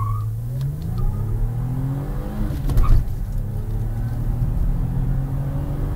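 A Vauxhall Vectra VXR estate accelerates hard with traction control switched off, its engine note climbing steadily in pitch, loud and close, with a brief rough burst partway through.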